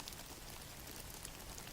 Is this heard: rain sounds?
yes